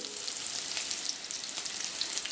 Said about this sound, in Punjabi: ਜਦ ਤੱਕ ਸਾਡੇ ਕਰੇਲੇ ਜੋ ਫਰਾਈ ਹੋ ਰਹੇ ਨੇ